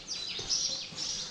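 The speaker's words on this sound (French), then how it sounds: "Les petits oiseaux chantent déjà." Small birds sing in the early morning at a campsite in Morocco, giving faint high chirps and tweets over steady background noise, with no speech.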